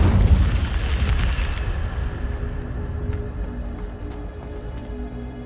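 Incendio fire spell cast in Hogwarts Legacy: a loud fiery whoosh and rumbling burst at the start that fades into a lingering low roar with game ambience.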